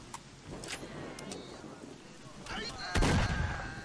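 Bursts of gunfire in the video game S.T.A.L.K.E.R.: Shadow of Chernobyl, several sharp shots scattered through the clip, with a heavier, louder burst near the end.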